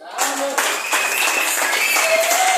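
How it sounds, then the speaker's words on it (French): A church congregation applauding loudly at a French-language service, dense clapping starting abruptly and holding steady, with cheering voices and whoops rising above it. "Est-ce qu'on peut applaudir très fort?"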